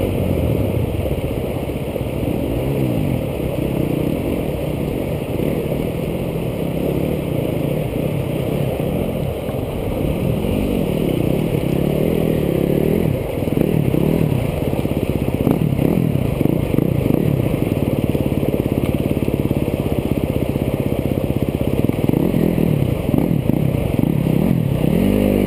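An off-road vehicle engine runs loud and close with repeated revving swells and some clatter, droning continuously under a faint background hum.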